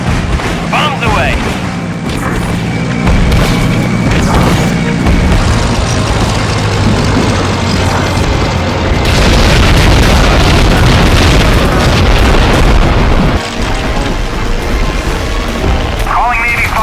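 Bombs from an aircraft exploding over a Pacific island airfield against Japanese troops in the Heroes of the Pacific World War II game: deep, sustained rumbling blasts with crackling bursts, loud and dense, under a continuous roar of engines.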